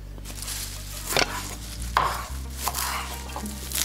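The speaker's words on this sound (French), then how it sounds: "la belle coriandre que je vais couper en petits morceaux" Fresh coriander is chopped into small pieces with a knife on a board, giving a few sharp, separated taps over a low background hum, close and fairly quiet.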